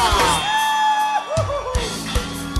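At an Oktoberfest show in Igrejinha, a large crowd lets out a loud, sustained shout that rises and holds over live music, with scattered yells and drum hits under it.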